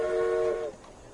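A train whistle sounds as a new train enters service in the railway management game Railway Empire: one loud, sustained tonal blast lasting under a second, then cutting off to quiet background.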